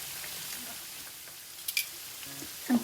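Pork for Thai crispy pork fries in hot oil with pandan leaves over low heat, a soft, steady sizzle and a few faint pops, quiet and close, with no talking.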